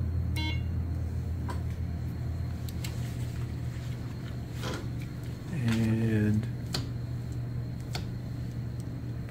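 A Metacycle electric motorcycle gives a short electronic beep as it powers on, followed by a brief rising multi-tone chime partway through, over a steady low hum and faint clicks.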